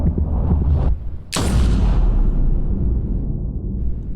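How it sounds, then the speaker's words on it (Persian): In the video game Death Stranding, one sharp, loud gunshot cracks over a low rumbling background, followed by a long echoing tail that slowly fades. "به کلیف شلیک کرد."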